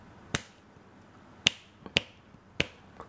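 Four sharp finger snaps spaced irregularly, fairly close and crisp, with a faint fifth click at the end; no talking.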